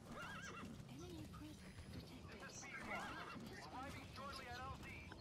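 Horse in the Metal Gear Solid V game neighs and whinnies with steady clip-clopping hooves, both loud and continuous beneath a voice talking throughout.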